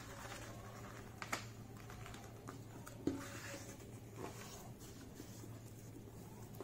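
Origami paper is creased corner to corner, giving soft, close rustles and a few light taps and presses over a low, steady background hiss.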